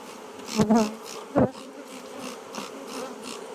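A dense, steady buzzing of a honeybee swarm hums throughout, with a couple of louder close passes early on.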